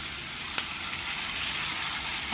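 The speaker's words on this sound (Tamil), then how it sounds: "வெங்காயம் வதங்கிட்டு இப்போ நம்ம வேக வச்ச காய்களை சேர்த்துக்கலாம்" Onions and boiled vegetables sauté in a pan with a steady close sizzle and crackle and a faint stirring scrape; no one speaks.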